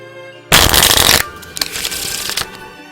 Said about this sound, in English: Now, I'm gonna shuffle the deck.